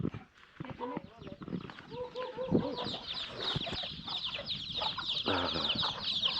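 Chickens at a Lao garden house that also keeps ducks cluck repeatedly nearby in short, uneven bursts, with people talking over and between the calls.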